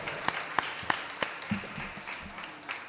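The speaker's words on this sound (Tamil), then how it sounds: "அனைவரும் கைத்தட்டி அவரை உற்சாகப்படுத்தும்" Church congregation at a Sunday service applauding, a thin, scattered clapping with a few sharp distinct claps early on that quickly fade into soft, sparse patter in a reverberant hall.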